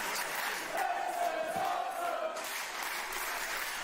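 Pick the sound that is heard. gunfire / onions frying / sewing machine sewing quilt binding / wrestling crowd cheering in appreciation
wrestling crowd cheering in appreciation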